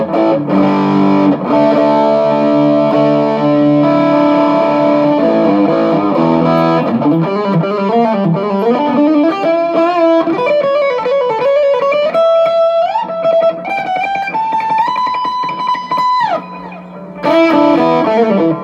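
A distorted electric guitar played through a Turbo Tube Screamer stacked into an Analogman Prince of Tone overdrive, loud and close, moving from sustained chords into a rising single-note lead with bends and a brief pause near the end.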